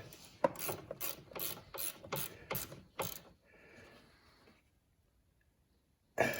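A ratchet tightens the negative battery terminal on an Infiniti in about eight quick clicking bursts, up close, then goes quiet before one more click.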